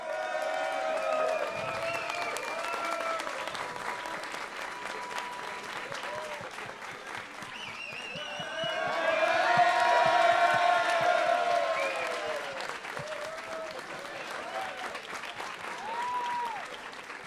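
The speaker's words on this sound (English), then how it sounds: "Keep clapping, please, there's more." A large crowd at a São Paulo esports LAN grand final applauds and cheers the newly crowned champion during the trophy lift, with sustained clapping swelling to a louder peak midway and whoops scattered throughout.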